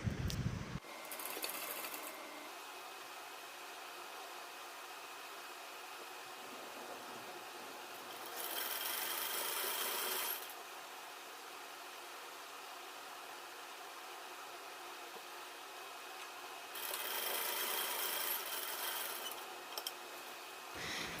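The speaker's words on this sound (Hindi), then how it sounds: "अब मैं फिटिंग सिलाई लगा लेती हूँ दोनों के साइड" A sewing machine stitches the side seams of a lined suit, running in three broad bursts, around two seconds each, separated by quieter stretches of low hum and fabric handling.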